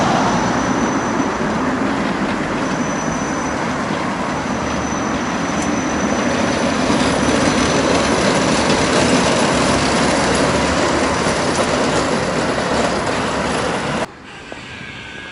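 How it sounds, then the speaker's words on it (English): A Soviet-era tram rolls along its rails through Samara, Russia, heard from on board as a steady rumble with wheel and track noise. The sound holds evenly until it drops away abruptly near the end. "Goodbye, Soviet tram."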